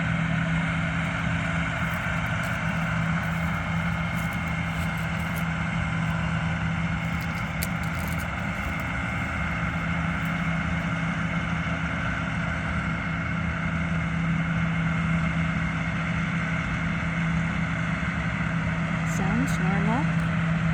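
A lawnmower engine on a sheep farm running at a steady pace, a loud, constant droning hum that holds unchanged from start to finish.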